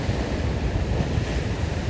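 Steady, roaring wind at the seaside in Teignmouth, Devon, in December buffets the microphone with a constant low rumble, with the wash of sea surf underneath and no voices.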